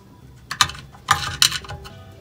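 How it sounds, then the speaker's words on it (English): A flat-head screwdriver pries a motor clip out of a Whirlpool washer, giving a few sharp metallic clicks and scrapes in quick bursts, close and fairly loud, with no talk. "We're gonna use the same technique using the standard head screwdriver to pop that out."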